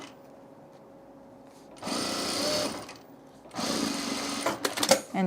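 A sewing machine top stitches a quilted tool case in two bursts of rapid whirring stitching separated by a pause, close and clear, followed by a few small clicks and handling sounds.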